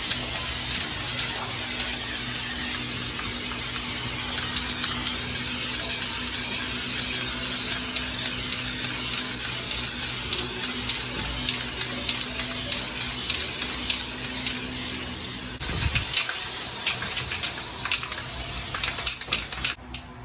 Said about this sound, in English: So now we're going over the floor with Flex Seal